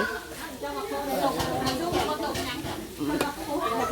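Meatballs frying in a pan for a child's birthday, giving a steady sizzle with stirring and scraping scrapes throughout, while voices talk over the cooking nearby.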